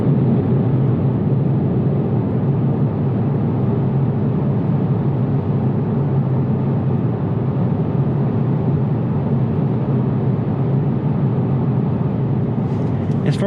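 A 2021 Toyota Supra 2.0 cruising on a smooth road gives off an even, continuous cabin drone of engine and tyre roar, unchanging throughout.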